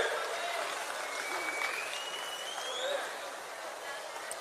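An audience claps steadily for a prize winner receiving a 50,000-rupee award at a prize-giving ceremony. The dense, even applause holds at a constant level for the whole stretch.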